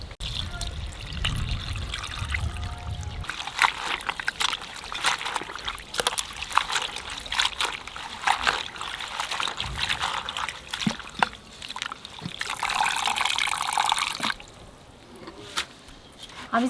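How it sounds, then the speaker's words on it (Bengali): Bean leaves being washed by hand in water, with continuous trickling, splashing and dribbling, close and fairly loud, with brief pauses and a few sharper splashes. "এখন সব ধুয়ে নেবো।"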